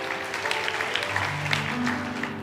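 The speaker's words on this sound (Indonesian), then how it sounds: "Kasih tepuk tangan untuk mereka semua, welcome home." A church congregation applauds in a large hall, a steady wash of many hands clapping at close to moderate range, with a faint sustained tone underneath.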